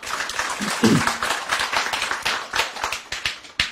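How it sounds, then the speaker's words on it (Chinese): An audience applauds at an indoor psychology lecture in Taipei, producing dense, steady clapping for nearly four seconds, with a sharp louder clap close by near the end. "来鼓掌一下"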